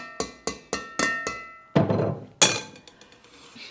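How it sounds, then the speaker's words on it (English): Dry pinto beans dropped into a metal pot on a rocket stove, a series of five sharp clinking strikes in quick rhythm followed by two louder rattling pours of beans, close and clear with no talk. "And then I'm just going to put them right in the pot."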